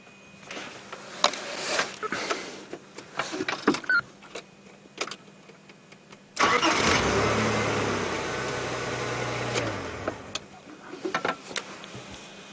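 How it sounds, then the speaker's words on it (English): A safari vehicle's engine starts up in the bush near Tingana, Karula, idling with a steady close rumble for a few seconds before shutting off, with clicks and small handling noises before and after. "I'm going to turn on and then you'll hear the engine."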